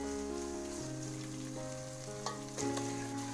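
Meat pieces fry in a pan over ginger-garlic paste for a meat and bottle gourd curry, a continuous close sizzle with a low steady hum beneath and a faint clink partway through, no voices.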